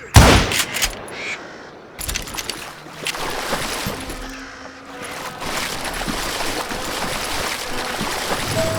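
Gunfire in the Western shooter Call of Juarez: Gunslinger, with sharp shots and rattling bursts over a rushing, watery ambience and a few dull impacts, loud near the start and then dropping back into a continuous wash.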